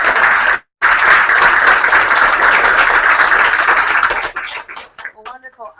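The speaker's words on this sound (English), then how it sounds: "let's give another round of applause not only to our panelists but to Francine" A seminar audience applauds the panelists and moderator with dense, steady clapping that fades into scattered claps near the end, with a brief gap early on.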